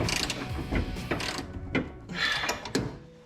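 A ratchet loosening the bumper bolts on a Jeep Gladiator JT, with a series of quick, close clicking bursts separated by brief pauses, loud and unaccompanied by talk.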